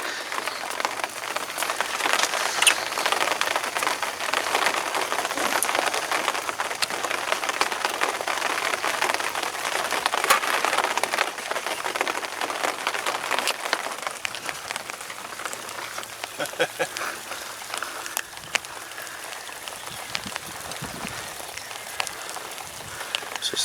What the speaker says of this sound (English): And this rain wasn't forecast, was it?